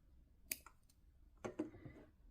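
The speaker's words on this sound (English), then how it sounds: "I'm gonna cut off yarn here" Crochet yarn is cut with a pair of sharp snips after slip stitching two squares together for a tote bag, heard as two brief clicks about a second apart, with no talking.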